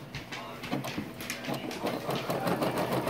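A Brother SE425 embroidery machine stitches a design on a blanket, its needle clattering in a rapid, steady mechanical rhythm close by throughout, with a faint hum beneath.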